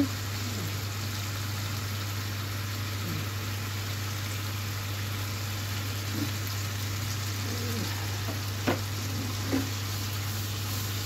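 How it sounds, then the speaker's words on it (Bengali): Raw pabda fish from the Padma river going into a pan of masala that has already been cooked down, giving a steady close frying sizzle throughout with a couple of small clinks and pops near the end. "কষানো হয়ে গিয়েছে এখন জাস্ট এটাতে মাছ কাঁচা অবস্থায় দিয়ে দেওয়া হচ্ছে"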